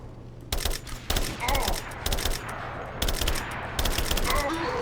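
Gunfire in the video game Rise of the Tomb Raider, several sharp bursts of rapid automatic fire in close succession, loud and near, with short gaps between volleys.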